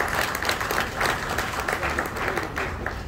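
Sustained applause from a crowd honouring the 1976 Centenary Greenhorns of Mfantsipim, steady and dense clapping that stays loud throughout.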